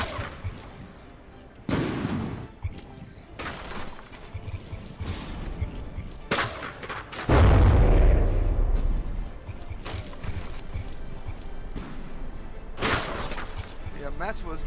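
Shells strike a warship in a From The Depths frigate tournament battle, landing as repeated sharp impacts and booms spread across the clip, one heavier deep blast in the middle, with talking running underneath.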